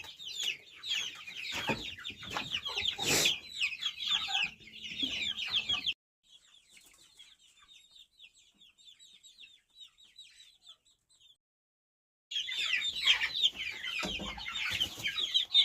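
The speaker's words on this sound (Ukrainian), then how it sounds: "Одна курочка і 4 півники." A hen and roosters clucking and squawking nearby in short busy bursts, with a quieter stretch of softer clucks and a brief silence in the middle.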